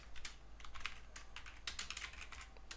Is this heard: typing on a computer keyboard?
yes